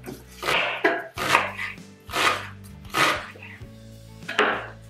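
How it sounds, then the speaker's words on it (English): A sharp knife roughly chops wild garlic and foraged seaweed on a board in about six uneven strokes, each a close, crunchy burst over a low background hum. "I'm just going to roughly put a knife through it."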